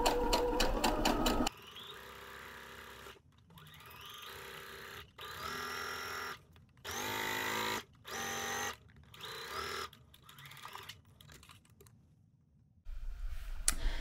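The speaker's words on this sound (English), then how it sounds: "Always back stitching at the beginning and the end." A sewing machine back stitches the neck facing of a New Look 6292 blouse, running in several short stop-start bursts of rapid stitching separated by brief pauses, close and clear with no talking.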